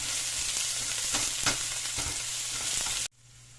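Garlic and onion fry in a hot pan with a loud, steady sizzle, broken by repeated scraping stir strokes. The sound stops abruptly near the end, and no one speaks.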